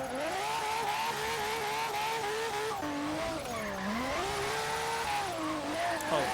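A Nissan Skyline in Forza Horizon 3 drives and drifts, its engine revving loud and close with rising and falling pitch as it shifts, accompanied by tire squeal through the slides.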